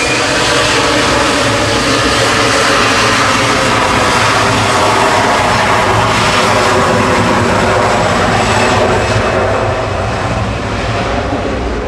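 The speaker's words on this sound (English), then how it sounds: "Heading off next, though, is A321 Classic HLYA to Kefalonia" An Airbus A321 departing Manchester Airport gives a loud, steady jet engine roar that holds for the full twelve seconds, broadband and sustained with slight swells, close and with no one talking.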